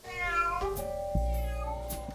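A cat meows clearly and close by, two drawn-out, tonal calls in quick succession with no other sounds around them.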